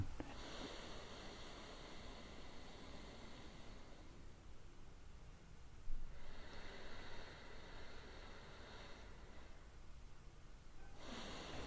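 Breathing through a single nostril as a sleep apnea exercise: a slow inhale and exhale that come as soft, breathy hissing stretches, alternating with short quieter gaps, close and faint, with no talking.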